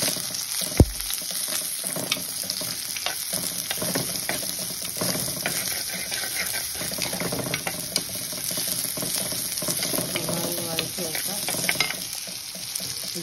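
Onions sautéing in a pan for an egg masala, a continuous sizzle with occasional stirring scrapes and a sharp knock near the start, moderately close, no talk.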